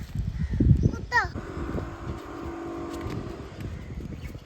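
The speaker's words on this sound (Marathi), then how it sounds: "कावळा पण ओरडतो त्यामध्ये बघ" A crow caws once, briefly, in a garden in Goregaon East. Steady traffic hum and nearby motor noise run underneath, and a voice murmurs at the start.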